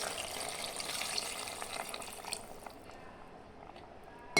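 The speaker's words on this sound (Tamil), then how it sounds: "இப்போ வந்து நம்ம கொஞ்சமாக இது வேகிறதுக்கு தேவையான தண்ணி சேர்த்துக்கலாம்." Water poured into a pot of duck curry as it cooks, a soft splashing, trickling fill that fades after a couple of seconds into quiet.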